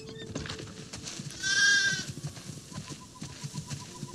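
A single sheep bleat in The Last of Us Part II rises briefly over a busy background of soft tapping and shuffling noises, followed by faint repeated tones.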